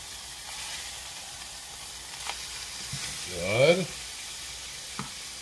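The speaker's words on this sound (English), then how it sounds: "they are brown, so I'm going to flip them over." Oklahoma-style onion burger patties, just flipped onto onions on a griddle, sizzle with a steady, moderate hiss. A voice briefly speaks over it.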